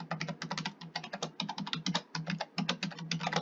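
Fast, close clicking of keys on a computer keyboard as a password is typed, a dense burst of light taps with tiny pauses.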